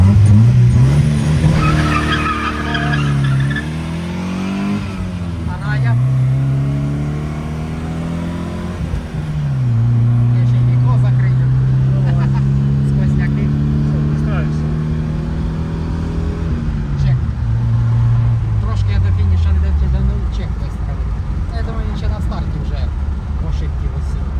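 VAZ cars racing, 1.5 and 1.6 litre engines revving and changing pitch with shifts as tyres squeal, loud and close and continuous, with voices over the noise.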